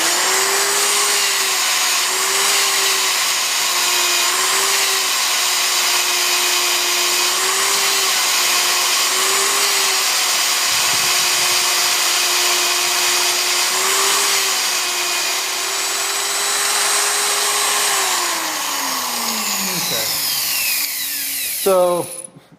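A magnetic drill motor drilling metal whines steadily for a long stretch with slight pitch dips under load, then winds down abruptly at the end.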